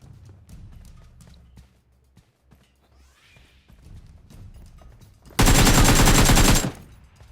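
A loud burst of rapid automatic gunfire in the video game PUBG Mobile rattles for about a second, following scattered quieter clicks and faint background sounds.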